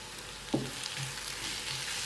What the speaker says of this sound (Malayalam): ഇത് നന്നായിട്ടൊന്ന് മിക്സ് ചെയ്ത് കുക്ക് ചെയ്തെടുക്കുക. സവാള നന്നായിട്ട് വഴഞ്ഞു വരണം.